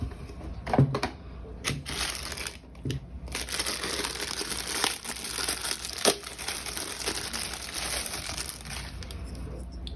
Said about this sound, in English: so let's go ahead and put the stand on here.